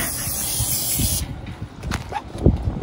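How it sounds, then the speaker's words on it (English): An aerosol spray can hissing inside an outhouse, a loud steady close spray that cuts off after about a second, followed by faint rustling and small knocks. "Time to spray"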